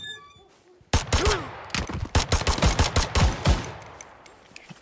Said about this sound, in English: taking fire from somewhere